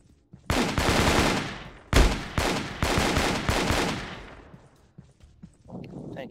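AK rifle fire in the VR team shooter game Alpha Mike Foxtrot, loud rapid bursts of automatic shots close up, separated by a short pause and fading to quiet at the end.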